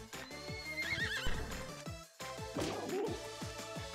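In the Miitopia video game on Switch, a horse neighs twice in shrill whinnies over steady clip-clop hoof beats, with game music underneath.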